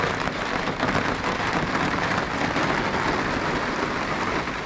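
Rain falls steadily on a greenhouse, a loud, dense, even patter of drops drumming on the surface throughout with no talking.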